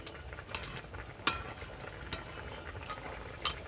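A spoon stirs spicy crab curry in a pan, producing faint scraping with a few sharp metallic clinks against the pan over a low background.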